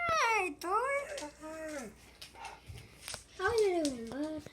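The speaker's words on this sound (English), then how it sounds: "This is how my dogs are." Pet dogs whine and yowl up close in drawn-out, rising and falling howl-like sweeps, with two long vocal bursts separated by quieter snuffling and softer whimpers.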